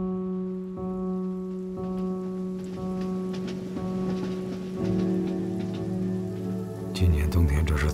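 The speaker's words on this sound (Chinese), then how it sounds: "这么多雨水。" Steady rain falls and patters on surfaces during a wet winter, running continuously under a sustained low droning tone that swells near the end.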